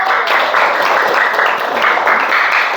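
A classroom group of students claps together on the teacher's command, a dense, steady burst of applause lasting a few seconds with no talk over it.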